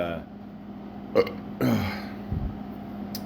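A single low, throaty burp rumbles out in the middle, with a short click just before it and quiet background hum around it.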